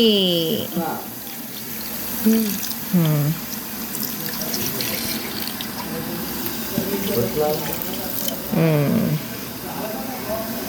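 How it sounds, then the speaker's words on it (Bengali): Water splashes and pours into a pot of village-style duck curry with hand-mashed potatoes in short bursts, with someone talking over the cooking. "এই যে এখন আমরা পানি অ্যাড করছি"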